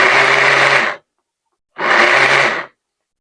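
A blender pulsing homemade Cheez-It dough with the lid off: two loud, whirring bursts of about a second each, separated by a short silent pause.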